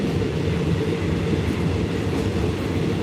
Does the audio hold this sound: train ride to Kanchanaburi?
yes